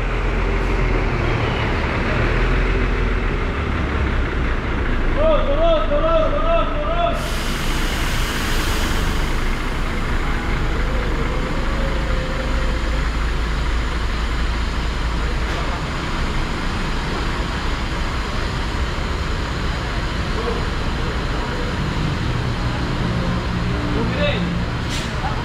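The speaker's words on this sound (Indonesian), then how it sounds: "Bus yang tadi maju dimundurin." A bus is backed out at a bus body workshop yard, its engine rumbling low and steady amid workshop and traffic noise, with people talking over it throughout.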